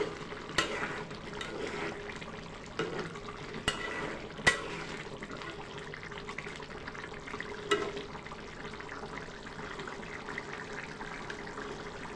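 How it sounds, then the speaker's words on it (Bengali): A curry of chicken skin and mung dal is stirred in a pan, with soft scraping and occasional sharper clinks of the spoon over a quiet, steady simmering sizzle. "আমি আরেকটু নাড়াচাড়া করে দিচ্ছি।"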